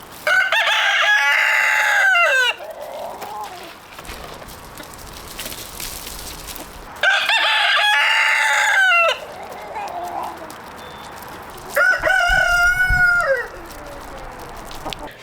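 A backyard chicken flock clucks softly while a rooster crows loudly and close three times, each long call separated by quieter clucking.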